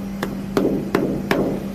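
Someone knocks by hand on a machine part, giving four sharp, evenly spaced raps that sound firm and close over a steady low hum, with no talking.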